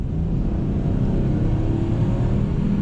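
Citroen C3 with a 1.2 PureTech three-cylinder engine while driving, giving a steady, close, low droning rumble with mild road noise throughout and no talk.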